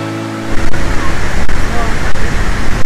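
Broad, steady rush of splashing water from the world's widest waterfall, heard up close as a loud, continuous roar that fills the whole clip after a brief quieter start.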